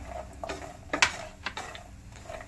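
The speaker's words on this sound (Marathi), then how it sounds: "आता आपण त्यामध्ये ड्रायफ्रूट घालत आहे ड्रायफ्रूट काजू बदाम आणि अक्रोट याला मस्त आपण भाजून घेणार आहे" Cashews, almonds and walnuts roasting in ghee in a pan, with a soft sizzle under a few light scrapes and clinks of a spoon stirring the nuts, one sharper knock in the middle, close and fairly quiet.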